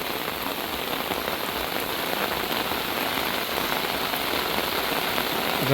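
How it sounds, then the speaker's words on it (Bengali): Monsoon rain falls on a haor-area village in Ashtagram, Kishoreganj, in a dense, even hiss of drops that holds steady from start to end, with no voices. "আষাঢ় মাসের বৃষ্টিতে গ্রামের দৃশ্য দেখাচ্ছি আপনাদেরকে"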